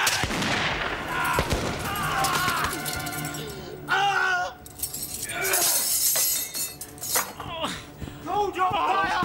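Battle gunfire with musket shots cracking in irregular bursts amid clinking and shattering, mixed with shouting voices and dramatic commotion.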